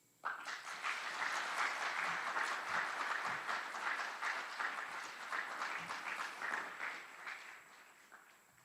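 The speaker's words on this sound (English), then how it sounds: "Please join us in giving a round of applause to these outstanding drill sergeants and instructors" Steady applause from a large crowd at an Army aviation graduation ceremony, clapping continuously and gradually tapering off toward the end.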